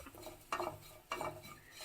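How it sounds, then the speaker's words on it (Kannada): Sesame seeds stirred through sugar syrup in a pan over a low gas flame, with soft scraping and light sizzle in two brief stirring strokes, close and fairly quiet. "ಪಾಕವನ್ನು ಹಾಕಿಬಿಟ್ಟು ಈಗ ಚೆನ್ನಾಗಿ ಹುರ್ಕೋಬೇಕು"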